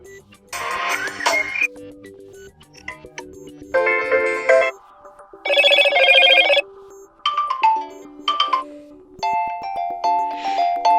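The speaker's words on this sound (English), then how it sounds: "So you can select one of these pre-installed ringtones." Pre-installed ringtones on a Motorola Moto G42 phone play one after another: short bursts of chiming, beeping and melodic tones separated by brief gaps, clear and close with no talking.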